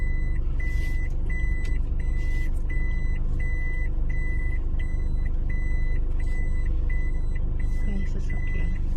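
A vehicle idles and moves through a mall parking area at Oakridge Pavilion in Mandaue City, its steady engine rumble overlaid by a regular reversing beep that repeats throughout.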